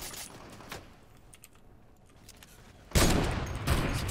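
A burst of rapid video game gunfire erupts loud and sustained after a quieter stretch of faint clicking and game ambience, with repeated shots rattling close in a competitive shooter match.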